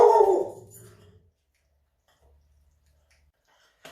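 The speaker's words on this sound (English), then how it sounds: "Oh, there's my dog." A dog gives one short, fairly close bark right at the start, then it is nearly silent apart from a faint low hum in a home kitchen.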